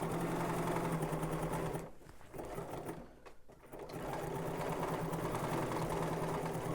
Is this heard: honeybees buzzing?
no